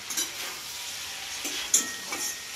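Onion frying in a pan for crab chorchhori, a soft continuous sizzle with occasional stirring scrapes and brief louder pops, close and moderately quiet.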